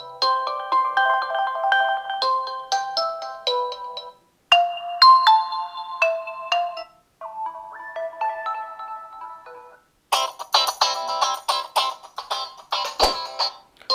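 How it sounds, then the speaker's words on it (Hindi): A loud electronic ringtone plays at full volume from an Infinix Hot 30i phone's single speaker in several bright melodic phrases, the tune changing between short sections with brief silent gaps. "यहाँ पर रिंगटोन चला लेते हैं, वॉल्यूम को मैं यहाँ से फुल कर लेता हूँ।"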